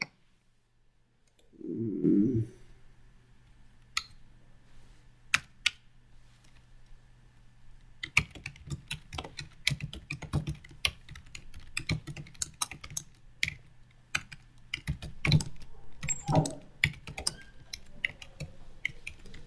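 Fingers type on a computer keyboard nearby in uneven bursts of sharp clicks and key taps, sparse at first and then dense and continuous, with no one speaking.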